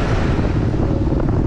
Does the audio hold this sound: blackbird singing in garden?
no